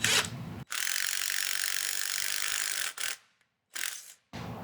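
An impact driver hammers a tap into a valve guide to cut threads, giving two long, loud, rattling bursts followed by a couple of short ones, close and unaccompanied, with near-silent gaps between.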